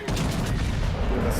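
Ship turrets firing in the World of Warships naval video game, a dense, loud, low rumbling burst of heavy gunfire that fills the short moment without a pause.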